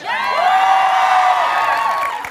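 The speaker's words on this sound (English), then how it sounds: "whenever you say pretty much any word, they erupt into applause" A fan crowd at an Avengers: Endgame event in London erupts in loud, sustained cheering and whooping that swells and then tapers off near the end.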